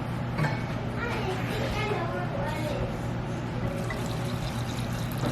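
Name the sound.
brine being poured over peppers in a jar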